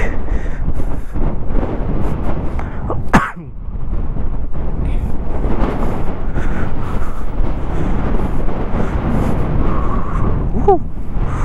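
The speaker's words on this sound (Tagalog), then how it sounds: "Napapakalakas ng hangin, malamig." Strong, cold gusty wind on a mountaintop at Mount Banoy, Batangas, buffets the microphone with a constant rumbling roar, broken by a brief lull and occasional faint voices.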